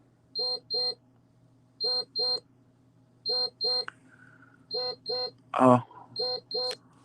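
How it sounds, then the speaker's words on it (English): A medical monitor beeps in repeated pairs of short, clear tones at a steady rhythm, fairly close, while a brief voice cuts in partway through. "Let me stop his monitor from beeping."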